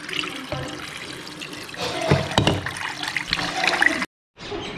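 Water poured into rice in a pressure cooker pot while making weaning food for a baby, a steady close splashing and trickling that stops abruptly near the end, with no voices.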